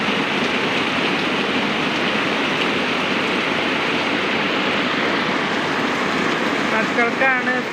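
Steady, dense rain pours down continuously around a house, a close and fairly loud wash of water noise with no break and no voices.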